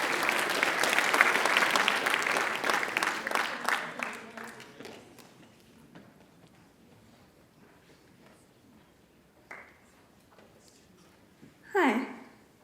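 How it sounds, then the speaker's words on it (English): Classroom audience applauding a student presenter at a school writers expo: loud, dense clapping that tapers off over several seconds into quiet, followed by a few faint isolated noises. "Everybody please give Sophia a round of applause as well."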